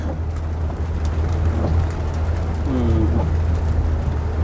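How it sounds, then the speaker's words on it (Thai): Heavy rain pours steadily in a dense, even hiss from start to finish, heard while driving on a road during a downpour. "โอ้ยฝนตกหนักเลย"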